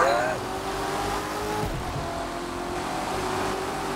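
In the racing game The Crew 2, a Ford GT500 engine drones and revs steadily while accelerating during a highway street race, with a brief tire squeal near the start.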